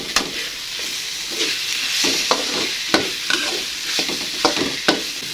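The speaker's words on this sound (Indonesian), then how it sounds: "kalau masak oncom harus sering-sering diaduk ya" Oncom, fermented soybean cake, fries in a pan while being stirred often, the close sizzle and hiss punctuated by regular scrapes and taps of a spatula against the pan.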